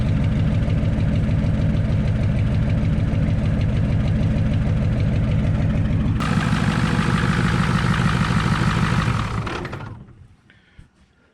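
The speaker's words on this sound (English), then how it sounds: "This thing has straight exhaust, no mufflers." An old car that sat for 12 years idles loudly nearby through a straight exhaust with no mufflers, a steady, throbbing, pulsing drone that changes tone partway through, then dies away as the engine shuts off.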